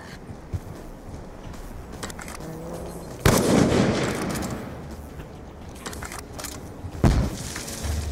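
A bomb goes off in a video game with two sharp, loud blasts, each trailing into a rumbling decay. Scattered smaller pops and crackles fill the quieter stretches between them.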